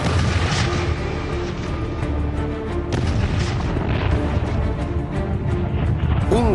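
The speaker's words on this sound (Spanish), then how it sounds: "Las atronadoras explosiones, el olor a azufre y las llamas que escupían infundían terror al enemigo." Medieval cannon fire at the Battle of Crécy in 1346: dense, continuous booming explosions roll together into a loud, sustained wall of rumbling blasts with no quiet gaps.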